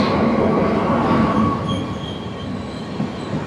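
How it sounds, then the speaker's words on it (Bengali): The 13145 Kolkata–Radhikapur Express, an LHB-coach train, rolls into a station with a steady rumble and squealing wheels, the noise slowly easing as it slows, with no voices over it. "চলে এসছে আমাদের ট্রেন 13145 কলকাতা রাধিকাপুর এক্সপ্রেস।"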